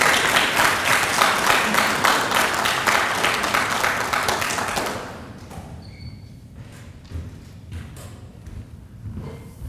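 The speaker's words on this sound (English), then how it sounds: "Y'all go ahead and clap for John so he can feel it in the spirit." An audience at a firefighter recruit training academy ceremony claps for an award recipient, loud dense applause for about five seconds that then thins abruptly into a few scattered claps, thuds and rustling.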